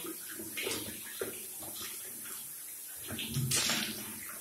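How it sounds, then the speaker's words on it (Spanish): Running water rinsing skin after a 10% glycolic acid peel, a steady splashing wash with soft bursts of spattering as hands move through the stream, close and moderately quiet. "Está aclarando perfectamente, sintiendo cómo la piel se calma con el agua"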